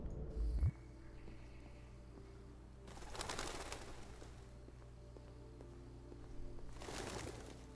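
Pigeons coo softly in a Detroit: Become Human game scene, two faint bursts of cooing over a low steady hum, distant and quiet with no talk.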